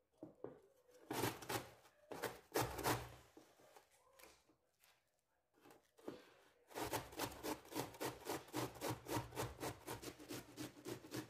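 Cabbage is rubbed against a grater in quick, regular rasping strokes, with a few scattered scrapes first and then a steady rhythmic run of close, crisp grating.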